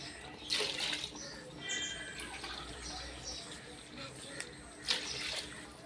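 Water is poured into a cooking pot for Tamil-style dum biryani, giving a faint, intermittent splashing and trickling with a few louder pours, under low background noise and some voice.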